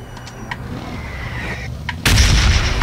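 Bombs going off in a video game: a quieter stretch of scattered thuds gives way near the end to a sudden, loud, broadband explosion blast that continues to roar.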